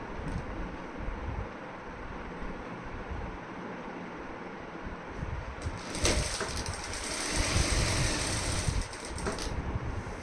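A sewing machine stitching falls onto a saree runs in a steady close mechanical whir, getting louder and brighter about halfway through, with no talk.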